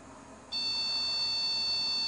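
A FlashForge Finder 3D printer gives a steady, high-pitched leveling beep that starts about half a second in and holds unbroken to the end, loud and close, after a brief stretch of quiet room hum.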